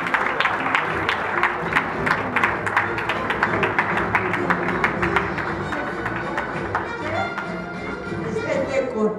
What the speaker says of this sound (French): Continuez à applaudir pour accompagner Maman Chibi.